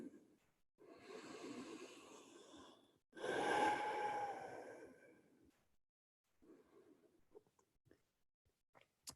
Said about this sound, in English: Nice big, long breaths